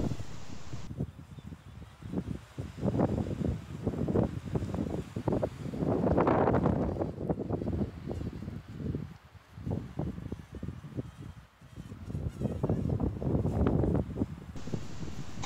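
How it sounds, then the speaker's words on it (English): Strong wind gusts of around 30 mph buffet the microphone outdoors, a roaring rush that swells and fades in repeated bursts over fifteen seconds and peaks loudly midway, with no voices. "These are easily 30 mile an hour gusts."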